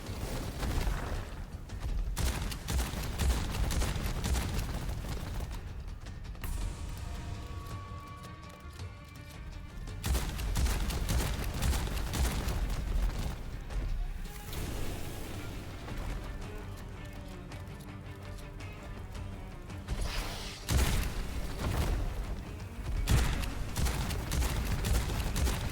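Shotgun blasts ring out in an FPS roguelike video game, loud, dense and repeated through most of the stretch, with brief lulls between bursts of fire and game effects.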